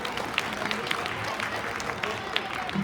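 Crowd at a school Grandparents' Day celebration clapping for a game's first-place winner, a steady mid-level patter of hands with scattered sharper claps, mixed with murmuring voices and room noise.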